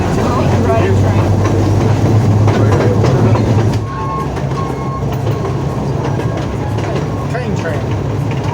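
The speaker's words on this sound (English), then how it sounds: "Why are we riding a train?" Loud rumble of a moving train in South Australia near Adelaide, heard from aboard, with rhythmic clatter and rattling, steady throughout, a voice briefly audible under the noise.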